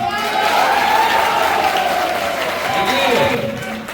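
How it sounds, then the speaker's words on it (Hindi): Audience at an indoor event clapping together, a sustained burst of loud, dense applause that holds steady and then begins to fade near the end. "मैं चाहूंगा सर के लिए भी डायमंड बनने से पहले डायमंड वाला ताली बजा दीजिए"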